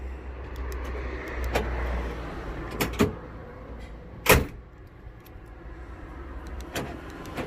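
Power lock on a pickup truck tailgate fitted with an aftermarket kit, with a few sharp mechanical clicks and one loud clunk of the lock actuating, heard close up over low outdoor background noise.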